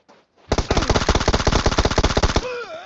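Rapid full-auto M4 rifle fire in the shooter game PUBG Mobile, one loud sustained burst of about two dozen closely spaced shots, followed by a brief ringing tail.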